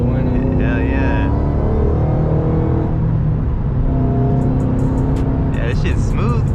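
A Ford Mustang Shelby GT500 with a stick shift accelerates from inside the cabin, its engine roaring with a rising whine that climbs and falls, while people talk briefly over it.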